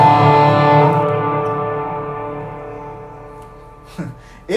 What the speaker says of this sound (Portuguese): Esse aqui já tem um reverb